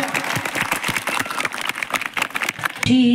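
Loud, dense applause from a school gathering, a crowd clapping steadily for about three seconds before giving way to a sustained sung tone at the end.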